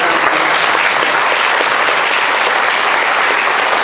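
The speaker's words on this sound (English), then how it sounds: "So everybody give a clap for Laura." Dense, loud applause from a room of guests at a retirement party for Mr. Kasey, clapping for Laura in a continuous unbroken wash of hands.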